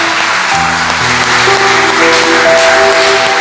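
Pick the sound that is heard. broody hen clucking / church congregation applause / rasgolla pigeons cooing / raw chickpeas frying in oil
church congregation applause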